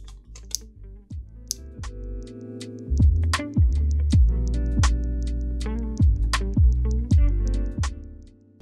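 Button clicks on an XTRFY M42 wireless gaming mouse sound as a series of sharp, separate clicks close to the mic, spaced irregularly about once a second over a low, droning background.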